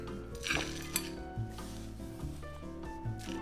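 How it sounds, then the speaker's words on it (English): Chopped pecans go into a small nonstick pan in a quiet series of light clinks, taps and rattles spread over a few seconds, close by with no talking. "so I'm just gonna put them in this little nonstick pan of mine"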